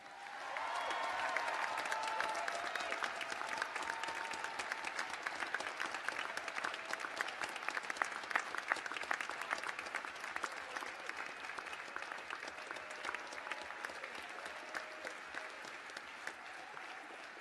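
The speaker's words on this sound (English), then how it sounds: "A huge and hearty round of applause for yourselves." A graduation ceremony audience for the School of Arts and Media gives a long round of applause: a large crowd clapping steadily for over fifteen seconds at a moderate distance, with faint cheers mixed in.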